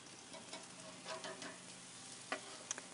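Salmon laid skin side down on a grill gives a soft, steady crackling sizzle with a few sharp pops, faint and close, with no talking.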